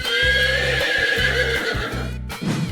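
A horse neighs and whinnies loudly and close in a 3D animal slide video game, the shrill call sustained over a rhythmic clip-clop of hooves before a brief cutoff.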